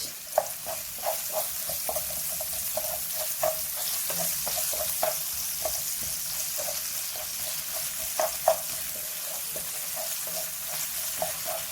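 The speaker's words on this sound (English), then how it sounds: "Now you're gonna fry these onions until they change color slightly." Chopped onions frying with a little salt in a pan, a steady hiss of sizzling with scattered sharp pops and crackles throughout, close and moderately loud, no talking.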